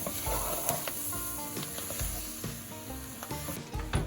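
Onions being cooked down for gumbo in a thick mixture in a pot sizzle and hiss steadily, with regular scraping and knocking as a spoon stirs them close by.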